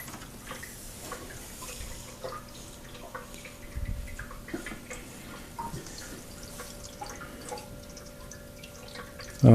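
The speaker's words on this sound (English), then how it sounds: "Okay, so the back emergency overflow has an issue. We have a leak here." Water drips from a leaking emergency overflow under an aquarium, a scattered series of small irregular plinks over a low steady hum, quiet and close with no talking.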